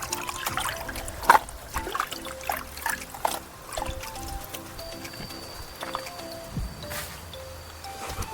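Water trickles and splashes softly while raw sardines are rinsed and washed by hand, a steady low pour with small drips and wet handling sounds over faint background hum.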